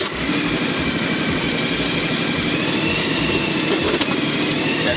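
A John Deere X710 ride-on mower engine runs steadily at a dense, even idle, close and loud throughout with no talk.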